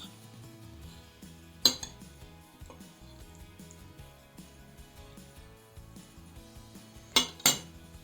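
Cutlery cutting through oven-baked chicken and potatoes on a plate, soft scraping with a few sharp metal clinks against the dish, close and otherwise quiet.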